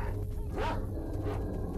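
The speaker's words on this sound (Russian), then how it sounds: "Здесь собаки." A dog in S.T.A.L.K.E.R.: Shadow of Chernobyl gives one short yelp over a steady low game ambience, brief and moderately close.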